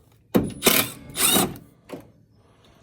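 A Milwaukee brushless power drill takes out cage screws on a UTV, running in a few close, loud whirring bursts: two longer runs followed by a couple of short, fainter pulses, with no talking.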